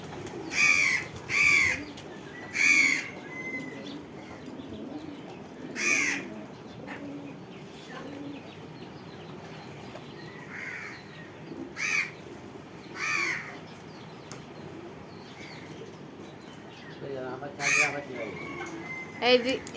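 Crows caw repeatedly at close range outdoors in the early morning while pigeons are fed rice, giving loud separate calls over a steady bed of soft background noise.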